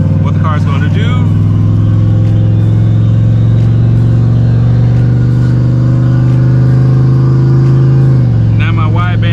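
Turbocharged SN95 Ford Mustang engine drones loudly under load while driving, a sustained rising rumble heard from inside the car that eases off near the end, with brief speech at the start and finish.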